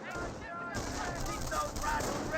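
An MG42 machine gun firing in the strategy game Company of Heroes, a steady continuous roar of automatic fire mixed with other battle noise, moderately loud and distant-sounding.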